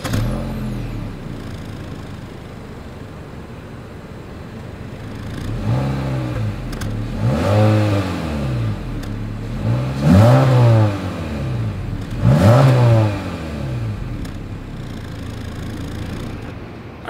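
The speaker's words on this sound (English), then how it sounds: "As always, here is that exhaust clip." A 2022 Honda Civic Sedan Sport exhaust revs alone and close by: three or four rising-and-falling throttle blips over a steady idle, each swelling loudly and then settling back down.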